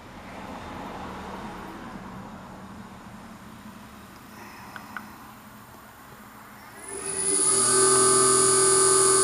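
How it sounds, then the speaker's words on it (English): A neighbor's noisy car drives past outside as a steady, broad roar that swells and fades over several seconds, followed by a rising electric-motor whine that takes over near the end. "One of my neighbors driving by with his noisy car."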